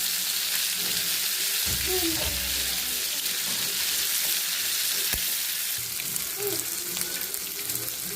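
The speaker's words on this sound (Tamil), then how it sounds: "நல்லா வறுத்து நல்லா கிளறி விட்டுக்கலாம்" Prawns frying and being stirred in a pan, a continuous close sizzle with scraping stirs and a brief knock, no talk over it.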